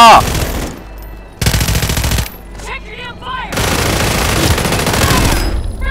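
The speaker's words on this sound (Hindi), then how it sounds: "ये ब्लू गन पड़ी है फुल मशीन गन है" Bursts of automatic machine gun fire in Call of Duty, loud rapid volleys broken by short pauses, with sharp pinging game effects in a quieter gap between bursts.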